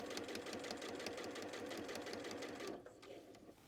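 A sewing machine stitches along the edge of a bag, its needle chattering in a fast, even mechanical rhythm close by, then slowing and easing off in the final second.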